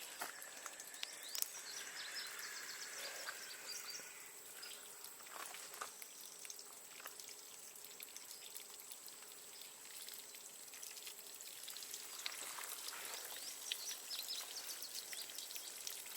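Water splashes and patters steadily onto soil and leaves, with soft dripping and trickling throughout and a few faint bird chirps.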